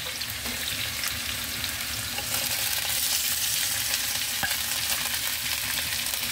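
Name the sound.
pork frying with onion and garlic for igado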